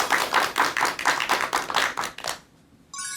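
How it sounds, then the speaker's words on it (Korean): Audience applause at a lecture on dying and end-of-life care, with steady, dense clapping for about two and a half seconds before it cuts off abruptly. "큰 박수 부탁드립니다."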